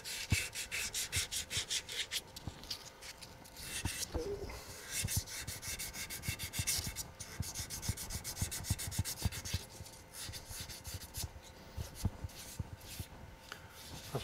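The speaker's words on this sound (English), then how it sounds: "We can sand with the grain." Sandpaper works a wooden darning mushroom spinning on a lathe, giving a steady, close scratchy whirr with a fine gritty texture. It holds loud and continuous for the whole stretch with no talking.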